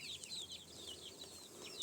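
Young country chicks peep in soft, high, repeated chirps while foraging and dust bathing in soil, faint and distant, with no talking.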